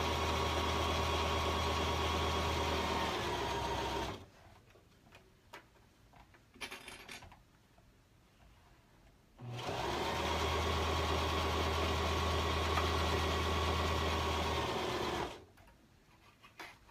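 A sewing machine stitches a seam on a child's Independence Day dress in two sustained bursts of about four and six seconds, separated by a quiet pause with faint handling noises, then falls quiet again.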